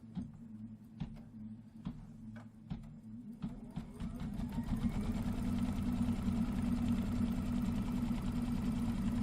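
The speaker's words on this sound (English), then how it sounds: "we're going to stitch the placement line for the batting" A Kimberbell embroidery machine stitches the placement line for pillow batting: a few sharp clicks and taps at first, then steady rapid mechanical stitching that builds and runs continuously, close and moderately loud.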